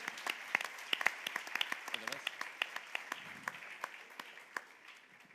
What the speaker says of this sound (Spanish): un aplauso tamén para o Corte Inglés por participar